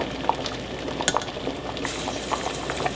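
Ham and bean soup with potatoes and a ham bone simmering in a pot, a steady close bubbling and gentle popping with a few faint clinks, no voices.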